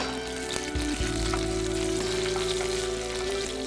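Spices fry in hot oil on a stove, making a continuous close sizzle over a steady low hum, with no talking.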